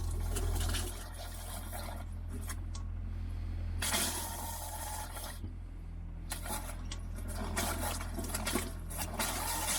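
Water gurgles and runs as the last of it is pumped out of a boat's water system during winterising. Irregular splashing bursts sit over a steady low pump hum, fairly faint, with no talking.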